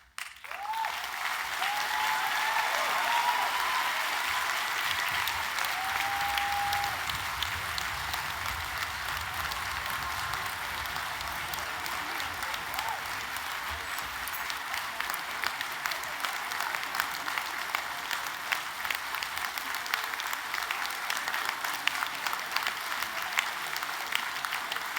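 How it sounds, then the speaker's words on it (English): Sustained applause fills a graduation ceremony hall, a broad, continuous wash of many hands clapping at moderate distance that holds steady for the whole stretch with no speech. "Lots of applause"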